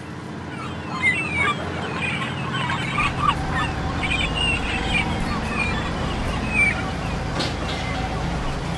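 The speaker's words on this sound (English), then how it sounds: "The call from the waking gull" A gull calls a few times over the steady low rumble of twin diesel engines on a lobster boat and lapping water, the cries thin and somewhat distant.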